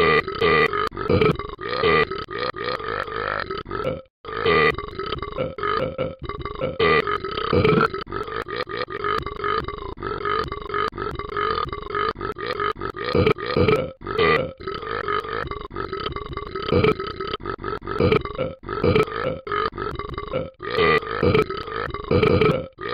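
A person burps over and over for more than twenty seconds, loud, close and nearly continuous, with only a few short pauses between the long belches.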